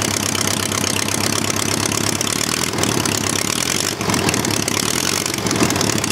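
A homemade four-cylinder Briggs engine generator idles steadily and fairly loud, with a rough, continuous running sound and slight knocking throughout, no talk.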